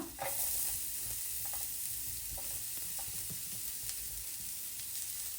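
Garlic, onion and capsicum sauté in melted butter in a pan, giving a soft, even sizzle with occasional light stirring clicks, close but fairly quiet, and no one speaking.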